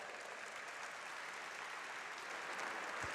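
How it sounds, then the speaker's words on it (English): Applause at an awards ceremony carries on as a steady, even patter of many hands, faint and distant, with no voices over it. "please, a little round of applause there for them."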